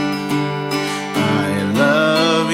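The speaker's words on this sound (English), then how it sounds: "I've got my acoustic guitar here and we are going to simulate learning a song." Acoustic guitar strums chords as accompaniment for a short, simple worship-style demo song, steady and close with sustained ringing harmonics and chord changes, no voice.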